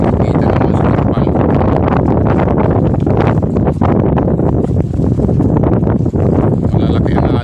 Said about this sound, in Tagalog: Lakas ng hangin, guys.